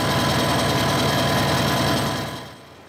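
Harrison 140 lathe chuck spinning with a steady mechanical whirr and a repetitive clunk, running close and loud before tapering off near the end.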